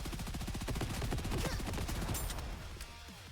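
A sustained burst of rapid submachine-gun fire from the video game NIKKE as a full magazine is emptied, loud dense automatic shots rattling continuously and thinning toward the end.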